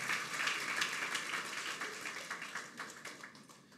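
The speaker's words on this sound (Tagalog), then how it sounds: "Palakpak niya nga ang kamay niya sa Panginoon" A church congregation at a Sunday celebration service claps hands together, a soft, distant patter of many overlapping claps that slowly thins out.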